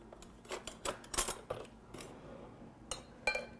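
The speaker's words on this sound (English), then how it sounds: "then use a spoon to scoop it out" A metal spoon scrapes and clinks against diced avocado still in its skin, giving a handful of short, light scoops and taps spread unevenly at close range over near silence.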